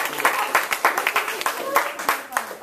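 Audience clapping and applauding at a memory peg demonstration, a lively run of irregular hand claps with crowd voices mixed in, fairly close and steady throughout.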